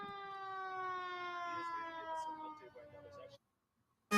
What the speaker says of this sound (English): Can you guys hear the siren and stuff?